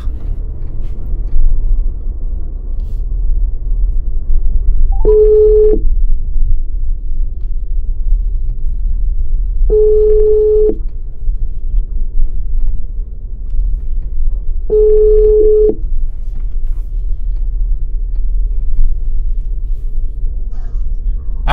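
A phone line rings while calling a contact: three evenly spaced ringback tones, about five seconds apart, sound over a steady low rumble, with no speech.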